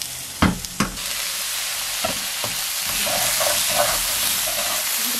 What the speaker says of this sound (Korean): 프라이팬에 고기가 조금 이렇게 불맛이 좀 날 정도로 익어가고 있거든요